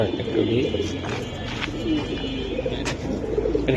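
Giribaz pigeons coo in low, rolling repeated calls, close and steady, mixed with a background of other birds and a busy market-like murmur.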